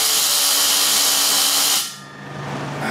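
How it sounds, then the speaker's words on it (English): Pneumatic needle gun scaling a welded metal upholstery bench frame, a loud continuous hiss and buzz that cuts off abruptly near the end, leaving a quieter rushing air noise. "I'm going to take a needle gun, and it will clean up all those little nooks and crannies"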